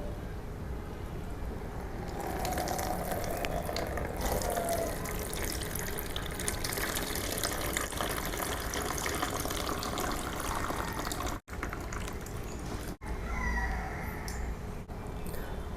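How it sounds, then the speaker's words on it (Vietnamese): Water poured over an orchid pot to flush out fertilizer salts, a steady running splash and trickle for a long stretch, broken by a few brief pauses near the end. "Do đó các bạn sẽ tưới thêm một lần nữa để giúp rửa trôi."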